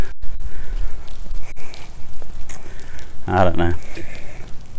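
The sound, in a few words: rain falling during a walk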